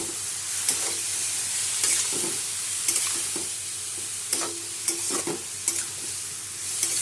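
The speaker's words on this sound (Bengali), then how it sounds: "এখন আমি সব একসাথে নিয়ে নেব, কষিয়ে নেব" Spices and cabbage are stir-fried in a pan with sugar, coriander powder, red chili powder and turmeric, giving a constant sizzle broken by repeated scrapes and clinks of the spatula against the pan.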